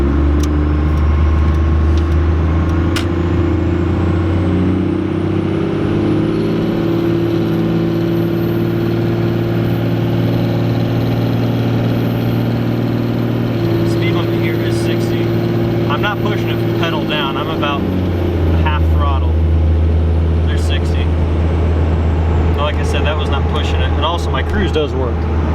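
A 12-valve Cummins diesel truck engine drones steadily while cruising, with a deep continuous rumble and a shift in tone midway, plus light clicks and rattles over the run.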